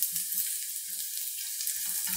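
Chickpeas sauté in a hot pan, giving a brief, close, even sizzle with a few low stirring bumps near the start and end.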